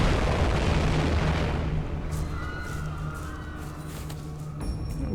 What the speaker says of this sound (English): And make it explode.